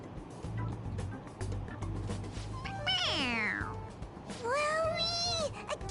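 A toy cat in Persona 5 Royal gives a long, drawn-out meow, then a second shorter rising meow. Both sit over steady game music and a low rumble.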